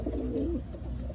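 Pigeons in a loft coo softly and steadily, one low rolling coo rising and falling in the foreground over a continuous murmur of other birds, with no talking.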